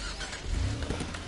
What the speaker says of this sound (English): But the car started